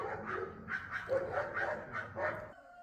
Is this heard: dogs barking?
yes